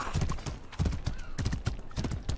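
Hooves of a galloping horse in the medieval combat game Mordhau pound in quick, rhythmic bursts of clip-clop, close and loud, with a faint whinny-like tone mixed in.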